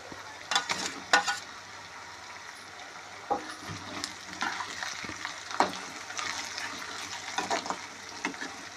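Onions and tomatoes fry in a pan for a punugulu curry, giving a continuous close sizzle broken by irregular clattering stirs and spoon knocks, with no talking.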